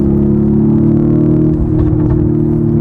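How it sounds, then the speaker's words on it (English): A Lamborghini Urus Performante engine drones while driving, a loud, steady low rumble from inside the cabin that holds constant throughout with no talk over it. "So I'm driving a Lamborghini Urus, not your regular Lamborghini Urus, a Lamborghini Urus Performante."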